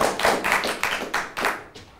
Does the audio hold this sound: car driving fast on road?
no